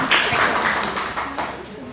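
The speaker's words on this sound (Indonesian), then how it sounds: "Berikan tepuk tangan buat kelompok 4." Classroom applause from students in a small class, a brisk patter of hands clapping through the full two seconds with voices chattering beneath.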